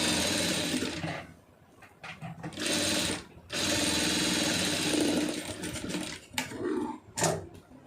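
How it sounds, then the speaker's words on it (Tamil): Sewing machine stitching fabric close up, bursts of fast whirring needle rattle broken by short pauses as the cloth is shifted, loud and without speech. "இதையும் வந்து ஒட்டில் வந்து தையல் போட்டுருங்க அப்போ தான் தையல் வந்து உள்ளே போகும்"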